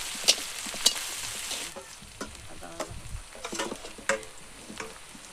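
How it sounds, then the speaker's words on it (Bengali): Onion and garlic frying in oil in a pan give a steady close sizzle, broken by sharp scrapes and clinks of stirring at irregular intervals, with no talking. "পেঁয়াজ দিলাম, তার সাথে দিলাম রসুন। এবার একটু নাড়াচাড়া করে দিচ্ছি।"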